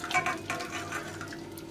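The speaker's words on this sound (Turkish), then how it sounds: "Kettle'da kaynattığım suyu şöyle bir kapla birlikte dökeceğim." Kettle-boiled water poured from a container into a pot, a short close splashing and gurgling pour that runs steadily and then tapers off.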